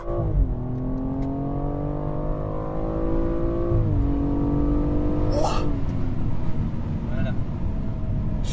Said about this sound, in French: Donc là du coup on va faire une petite accélération.